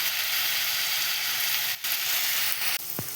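Potato podimas sautéing in a pan with a splash of soy sauce: a steady, loud, close sizzle and hiss of frying, briefly interrupted once, with a faint clink near the end.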